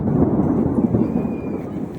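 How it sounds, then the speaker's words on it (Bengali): Thunder rolls as a low, continuous rumble, fairly loud and unbroken for the whole stretch, with no voices. "বজ্রপাত"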